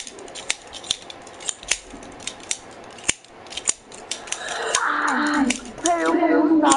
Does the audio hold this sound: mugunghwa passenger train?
no